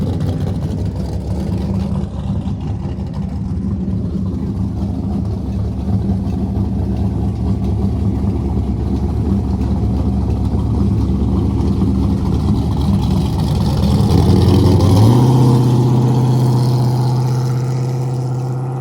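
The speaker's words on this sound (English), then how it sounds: "These guys have been working on this car for 4 years and getting to make their first rookie pass today." A land speed record car's engine runs on the Bonneville salt flats before its first rookie pass, a loud, steady, droning rumble that holds for many seconds and then rises into a higher, sustained tone near the end.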